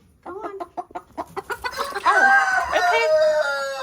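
Rooster and chickens in a modern shipping-container breeding coop, with a run of rhythmic clucks building into a loud, dense squawking chorus and a sustained crow-like call, close and busy.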